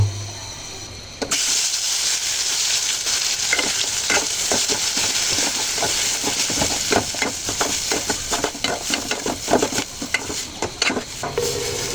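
Ground shrimp vorta paste drops into hot oil in a pot with a sudden loud burst of sizzling, then keeps frying with a steady hiss and repeated scraping stirs and clinks against the pot.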